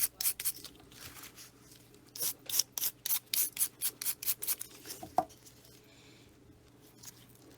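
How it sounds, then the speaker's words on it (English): A rough brush sweeps loose excess off Hello Kitty nail art in quick repeated scratchy strokes, close and fairly quiet, with a short pause near the end. "I'm just going to brush that over, getting rid of any excess."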